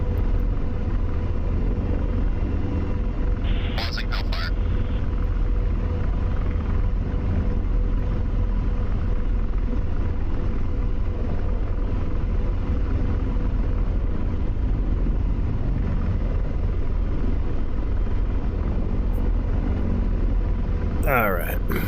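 An AH-64 Apache helicopter in the DCS combat simulator lifts off heavy, its rotor and turbine rumble roaring steadily and close throughout, with a voice talking over the noise.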